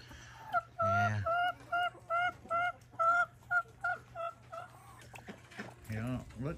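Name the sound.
turkey calling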